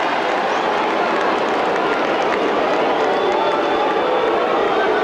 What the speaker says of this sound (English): the booing is aimed in the direction of the official in charge for giving the free in the first place to Galway